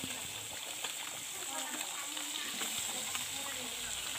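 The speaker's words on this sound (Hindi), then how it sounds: "यहाँ पे दाल ऑलरेडी ऐड कर दिया है, ये बहुत अच्छी तरह से उबल रहा है।" Black gram dal with snails boils in a pot, a steady bubbling and sizzling simmer with small splashy pops throughout, while a person talks over it.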